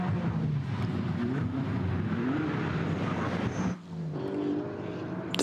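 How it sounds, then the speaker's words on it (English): Race cars, among them a GT-tyre-sponsored BMW and a Porsche battling hard, roar down the Döttinger Höhe straight at the Nürburgring during an NLS endurance race, with loud sustained engine noise, rising pitch and a brief dip as one car passes. "Down the Dottinger Hoor go a variety of different cars, including a GT tyre sponsored BMW being pushed hard for that scrap"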